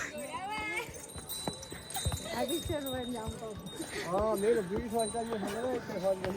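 Steady hoof clip-clops from a horse plod along the pilgrimage path at Vaishno Devi, beneath people talking over them.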